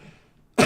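A single sudden cough bursts out at close range after a near-silent stretch, loud and broad, cut off at the end.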